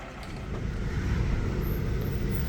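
A flatbed truck carrying a heavy 2012 BMW X6 drives along, giving a continuous rumbling road and engine noise, steady and fairly close, with no talk.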